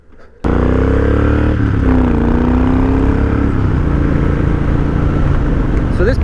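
A 2010 Triumph Thunderbird 1700 motorcycle engine starts abruptly after a quiet moment and runs loud and close, its deep note rising and settling in revs with a steady throb.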